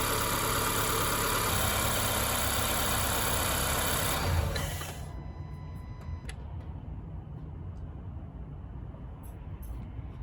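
Honda car engine idling steadily with a smooth, even hum, then switched off midway, leaving a much quieter background with faint ticks and small clicks.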